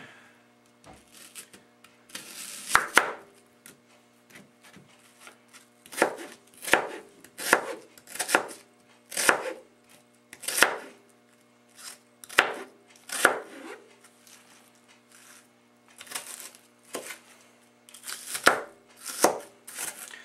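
A knife chopping onion on a cutting board, with irregular bursts of crisp close thuds, some in quick runs and others spaced apart, over a faint steady hum.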